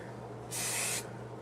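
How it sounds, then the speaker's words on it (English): A single half-second burst of aerosol hairspray hisses close by onto curled hair against a quiet background. "just spray this in your hair"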